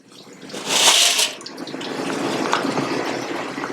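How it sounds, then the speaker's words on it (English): Pasta drops into boiling water in a restaurant kitchen: a burst of splashing rises sharply and fades, followed by a steady bubbling, rolling boil that continues close by. "Now you're gonna throw your pasta in the boiling water."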